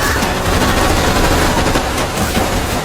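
Sustained submachine gun fire in an action film, a dense, loud, continuous fusillade of rapid shots with no talking.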